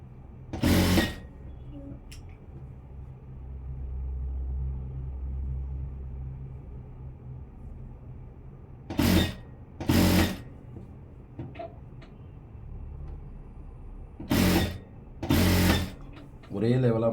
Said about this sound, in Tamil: மடிச்சுட்டு இந்த ஓரமாக தையல் போட போகிறேன்.